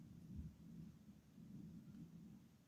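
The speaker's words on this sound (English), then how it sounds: "That sounds like thunder." Low, distant rumbling thunder rolls in two broad swells across the clip, with no speech over it.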